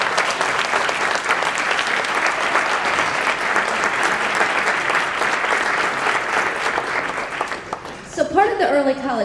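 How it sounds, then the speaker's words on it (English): At an early college high school symposium, an audience gives a student sustained, full applause, a steady roar of many clapping hands lasting about eight seconds before fading as a voice begins speaking. "Let's give Chloe a round of applause."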